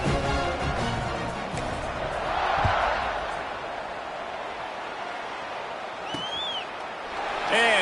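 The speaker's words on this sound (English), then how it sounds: "this crowd is buzzing after that last score" College football stadium crowd at a JMU versus Old Dominion game keeps up a broad, steady roar after a score, a dense wash of voices with a brief whistle-like squeal near the end.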